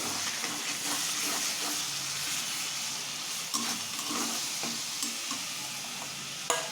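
Garlic paste sizzles in hot oil in a pan while being stirred, a continuous close frying hiss with occasional scraping taps of the spoon.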